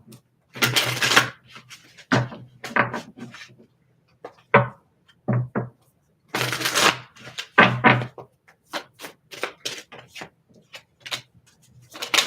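Jack-o'-lantern tarot cards are shuffled in a quiet room, with bursts of riffling and sharp papery snaps separated by short pauses.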